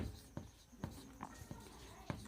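A pen or chalk writing out a math equation, with short scratchy strokes and taps spaced about every half second, close and moderately quiet.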